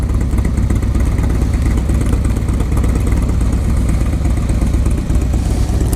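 A Harley-Davidson Low Rider S or Yamaha Road Star Warrior 1700 muscle cruiser engine runs loud and close, a steady low rumble with clattery texture throughout, no talk.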